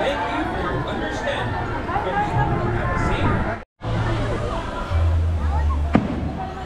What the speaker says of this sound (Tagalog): Okay, fireworks.